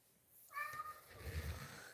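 A cat gives a single drawn-out meow, faint and somewhat distant, followed by low rustling and muffled noise in a quiet outdoor setting.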